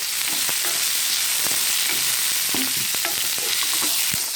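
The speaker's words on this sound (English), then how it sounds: "you have to stir until your onion and garlic turn into a very lightish brown in color" Chopped chili, onion and garlic fry in a pan with a steady loud sizzle, punctuated by repeated scraping clicks of a utensil stirring through the mix.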